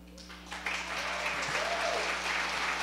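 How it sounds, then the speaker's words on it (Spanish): A church congregation breaks into applause welcoming a pastor, the clapping swelling within the first half second into a sustained, full-room roar with a low electrical hum and faint cheering voices beneath it. "con un aplauso grandísimo, grandísimo"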